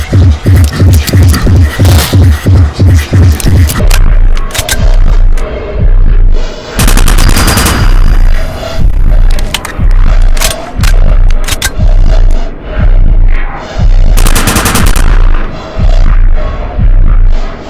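Video-game gunfire blasts at a monster in a winter survival game, loud rapid bursts of shots with heavy low thumps, repeating over a droning, throbbing backdrop.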